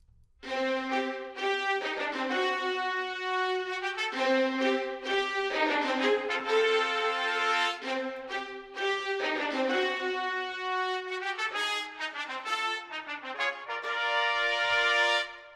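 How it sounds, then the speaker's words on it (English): Bold trumpets carry a stately main theme with strings doubling the line, a full, heavy orchestral sound that stays loud and sustained throughout. "we announce it with the trumpets. That's actually doubled by strings,"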